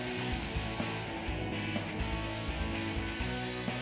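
SATA Minijet 4 spray gun laying down UV primer over small repair spots, a steady close airy hiss of atomized spray running throughout with no voices.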